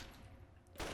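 A single sharp gunshot in Fallout New Vegas, a brief loud crack at the very end of a short stretch of quiet game ambience.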